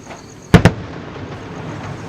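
Fireworks at a display go off in two sharp, loud bangs in quick succession, followed by a faint crackling tail and low background noise.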